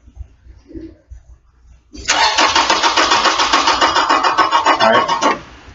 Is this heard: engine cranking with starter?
yes